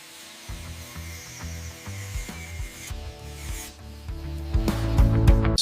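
Steel motorhome body joints on a Prevost luxury coach are smoothed in a factory, a continuous grinding, rubbing hum with tonal whine that grows louder and harsher toward the end.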